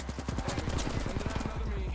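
Rapid machine-gun bursts in a video game firefight, a fast chattering rhythm of shots over a dense background, with a voice talking throughout.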